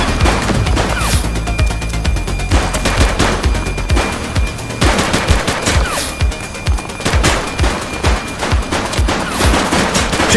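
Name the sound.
gunfire in the video game The Precinct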